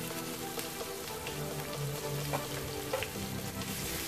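Small shallots, fennel seeds and dried red chillies sauté in a pan for hotel-style chicken chukka, a soft, continuous sizzle with fine crackling pops and a few quiet spatula scrapes.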